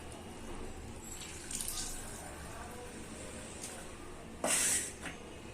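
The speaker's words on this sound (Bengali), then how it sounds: "এবার আমি মাশরুম থেকে জলটা নিগড়ে ফেলে দেব।" Washed mushrooms being squeezed by hand to wring out water, giving a steady wet trickle with a brief louder splash of water near the end.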